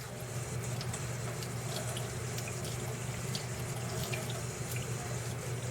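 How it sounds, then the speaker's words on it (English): Tap water running steadily into a sink while tie-dyed fabric is rinsed of dye: a continuous close splashing rush with faint intermittent drips and sloshes, no voices. "we'll rinse out the color"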